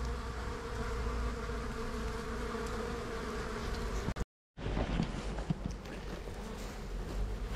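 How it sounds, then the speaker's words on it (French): Honeybees buzz steadily around a hive entrance fitted with a grille in a city apiary, a dense, continuous close hum with a brief dropout partway through. "On voit que les abeilles s'habituent un petit peu à cette grille. Le passage un peu plus complexe, mais au moins il y a de l'activité"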